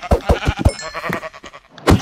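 Repeated sheep bleats from the Minecraft video game come in a rapid string of short, loud, close cries, a few more scattered calls, and a final sharp bleat at the end.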